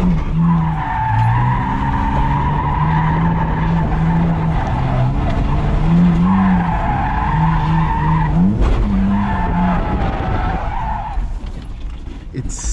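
A BMW E46 wagon drifts in second gear on a bumpy, open stretch, its engine droning loud and close beneath long, wavering tire squeals that rise and fall for several seconds before easing off.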